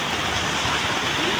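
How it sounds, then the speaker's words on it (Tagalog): Heavy rain pours steadily outdoors on a long walk, a dense unbroken hiss at constant loudness throughout. "Lumakas na naman ang ulan"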